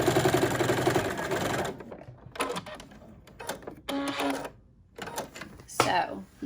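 A sewing machine reinforces a stitch on a surgical mask, running in a steady loud whir for about two seconds, then in short stop-start bursts separated by quiet gaps.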